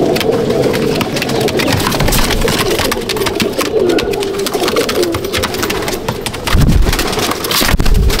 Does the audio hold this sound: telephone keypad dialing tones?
no